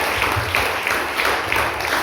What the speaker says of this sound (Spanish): Denle un fuerte aplauso al Señor, hermanos